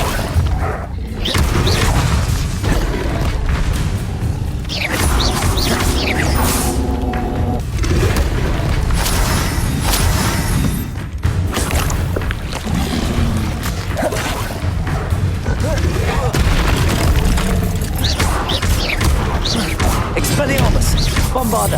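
Bombarda and Incendio spells detonate repeatedly in Hogwarts Legacy, a long run of booming blasts, crackling bursts and whooshes in steady combat, loud and close with voices heard among them.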